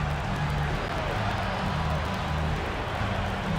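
A basketball arena crowd cheers after a three-pointer, a steady roaring wash of voices and scattered clapping holding at even loudness throughout.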